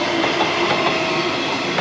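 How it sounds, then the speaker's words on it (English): A train passes nearby in Perth, a loud steady roar of rolling carriages with rail noise filling the whole brief moment, no voices over it. "Have great train services which run very regularly and on time"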